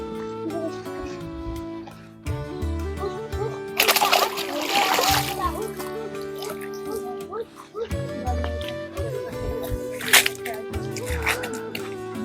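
A cast net thrown into a village canal while fishing for tilapia lands with loud splashes and sloshing water, with people talking throughout.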